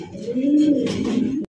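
Pigeons cooing close by, a single deep rolling coo that swells and holds for about a second and a half, clear and loud with no talk over it.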